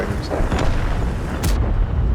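Tank gunfire in World of Tanks, playing the Minotauro on maps such as Himmelsdorf, Berlin and Pass: one sharp, loud cannon blast cracks out over a low, rumbling battle background.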